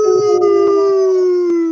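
A voice imitates a cow saying "moon" as one long, drawn-out, wolf-like howl, loud and close, gliding slowly downward over nearly two seconds with no other sound.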